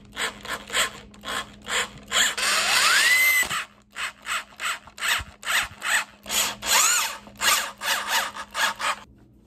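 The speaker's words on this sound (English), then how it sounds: "What I'm going to do is secure each leg with one more screw each." A screw is driven with a power drill into a salvaged wooden chair leg, heard as a run of short bursts of whirring and ratcheting, with brief pauses between them, fairly close.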